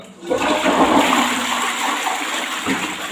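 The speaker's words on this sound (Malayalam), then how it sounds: "പത്ത് പതിനഞ്ച് മിനിറ്റ് നമ്മൾ ഇതുപോലെ വെച്ചതിന് ശേഷം ഒന്ന് ഫ്ലഷ് ചെയ്ത് കൊടുക്കാം" A toilet flushes after a cleaning solution has sat in the bowl, with a loud, close rush of water that begins abruptly and swirls steadily until the end.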